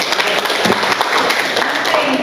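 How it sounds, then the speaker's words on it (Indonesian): An audience at a youth mental resilience session applauds the children, with continuous loud clapping across the room and murmuring voices mixed in under it. "Tepuk tangan untuk anak-anak kita semua."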